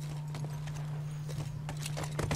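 Horse hooves clip-clop in The Last of Us on PS4, a steady series of close hoofbeats over a constant low hum, picking up slightly toward the end.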